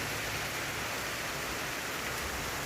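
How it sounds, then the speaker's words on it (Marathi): Heavy rain pours down outside a roadside eatery in Kolhapur during a power cut, a steady dense hiss of downpour that fills the air, fairly faint and uninterrupted with no talking. "खूप मोठा पाऊस पडतो आहे आपल्याकडे आत्ता"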